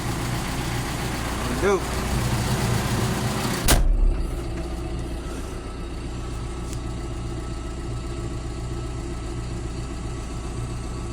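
A 2013 John Deere 6115D tractor diesel cranks over cold and settles into a steady idle, a loud broadband rumble with a brief start transient, while a person speaks briefly nearby.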